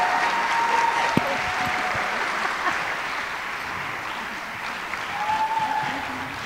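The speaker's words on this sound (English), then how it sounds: "Another round of applause," Audience applause at a Dancing with our Stars 2024 award event, a steady, dense wash of clapping from a crowd that carries through the whole stretch at even strength, with no talk over it.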